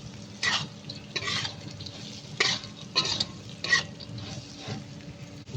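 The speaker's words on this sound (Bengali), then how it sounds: "পেঁয়াজ রসুন ভাজা হলে ডাল দিয়ে দিবেন। ডাল দিয়ে একটু নাড়াচাড়া নেবেন।" Lentils fried with onion and garlic in a pan are stirred in repeated scraping strokes, roughly one every second, over a soft, close background sizzle.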